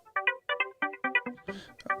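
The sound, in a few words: phone ringing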